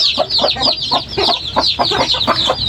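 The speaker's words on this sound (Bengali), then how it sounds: "এখানে আমি মুরগিটাকে ভিতরে ছেড়ে দিলাম" A hen clucks repeatedly in a quick, busy rhythm after being released into a farm pen with her chicks, loud and close with no talk.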